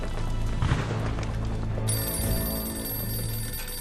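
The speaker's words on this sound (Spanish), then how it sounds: "A la mañana siguiente suena el teléfono en el búnker de Bakkerer." An old telephone rings inside a German wartime bunker at Dinard, its bell sounding in repeated bursts over a low rumbling background, loud and close.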